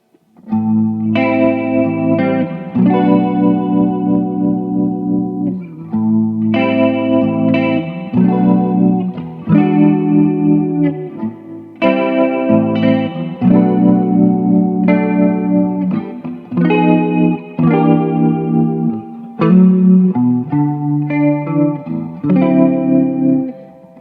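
Electric guitar playing chords and short phrases through a TC Electronic June 60 chorus pedal in mode 1, shimmering, clear and steady, with a slight echo; no voices.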